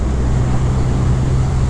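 A 2023 Triumph Rocket 3 R motorcycle with a 2500 cc engine roars at high revs while riding, a loud continuous drone mixed with heavy wind rush.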